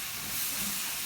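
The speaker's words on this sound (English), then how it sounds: "I'm now going to add a little bit of water just to lift all those bits that are stuck on the bottom." Water hits a hot cooking pan during spaghetti Bolognese preparation, giving a steady, loud hissing sizzle and rush of steam with no talk.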